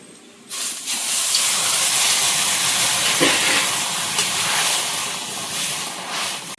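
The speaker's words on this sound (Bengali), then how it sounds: "ভালো করে ভাজা হয়ে গেছে এবার কচুটার মধ্যে জল দেবো" Taro frying in hot oil bursts into a loud, steady steam hiss and sizzle as water is poured in, holding strong for several seconds with no talking.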